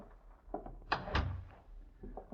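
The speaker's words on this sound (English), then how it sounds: "Close the door, please." A door being closed indoors, a quiet muffled thunk with a short rattle in the middle of an otherwise hushed room, a couple of soft movements around it.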